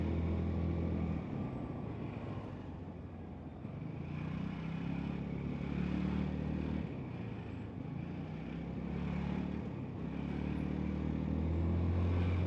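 A Qooder Quadro QV4 motorcycle riding through morning traffic jam, its engine droning steadily with low rumbling rises and falls as it squeezes between vehicles, wind and road noise constant throughout, no voices.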